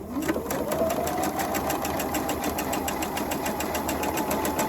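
A sewing machine runs steadily and loudly, stitching the base onto a fabric tote bin for potted plants, with a continuous motor whir and rapid even needle ticking throughout.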